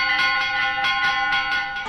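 A church bell in a Minas Gerais town rings a quick, even repique calling people to Mass, with bright metallic strikes roughly every third of a second and no talk.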